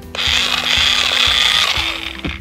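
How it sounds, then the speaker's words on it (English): A toy drill from a children's tool set whirs with a steady buzzing motor hum and faint rattling, loud and close, running continuously for a couple of seconds with no talk. "that's a drill"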